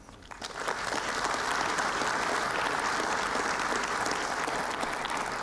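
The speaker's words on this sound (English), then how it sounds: "I think worth an applause to the founders who managed that journey" Conference audience at the Trondheim Tech Port event bursting into sustained, dense applause that swells quickly and holds steady, filling the room evenly from near and far.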